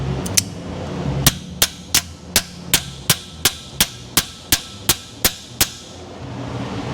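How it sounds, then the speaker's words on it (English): Hammer blows on a stuck pump bolt in a Ford 5.4 engine: about fifteen sharp metallic strikes in a steady, even rhythm, loud and close, with no talk. "That's not a good enough hammer."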